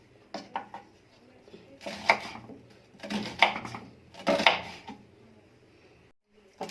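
Two onions sliced into half-rings with a knife on a board for Egyptian koshari, heard as quick clusters of close, crisp cutting taps in several bursts with short pauses between them.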